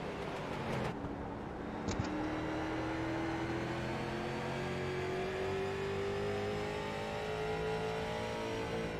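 Street stock race cars circle Martinsville in a close pack, one running right on another's bumper, engines droning loudly and steadily with a rising pitch as they accelerate, plus a brief sharp knock near the start.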